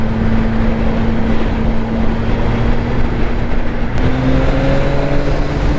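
A CFMOTO 675NK motorcycle engine runs loud and close, a dense rumbling drone that holds steady before its pitch steps up near the four-second mark.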